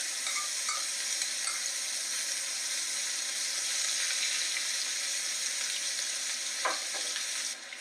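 Steak and onions sizzle and fry in a hot pan, a dense, steady hiss that runs unbroken and close throughout, with faint clinks near the end and no talking.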